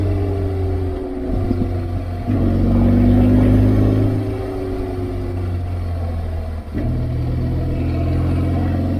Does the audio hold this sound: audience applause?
no